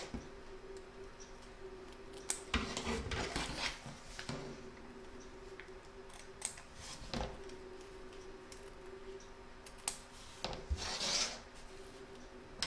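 Scissors snip and rub through layers of fabric and batting on in-the-hoop poinsettia bunting, a series of short, close cutting bursts with quiet gaps between them and no talking.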